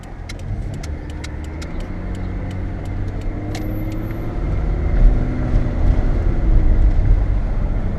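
An engine idles with a steady low rumble, broken by a series of sharp, regular ticking noises up high that fade partway through.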